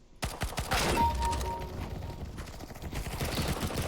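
Gunfire in Counter-Strike: Global Offensive, a sudden rapid burst of automatic shots followed by sparser firing and mechanical clicks, fairly close and loud.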